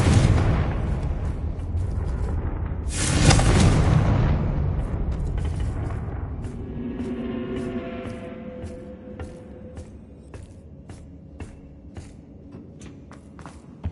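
A Confringo blasting spell in Hogwarts Legacy sets off a loud, deep explosion a few seconds in that rumbles and fades slowly, followed by a faint run of footsteps.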